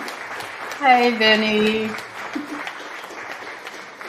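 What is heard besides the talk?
audience applause and clapping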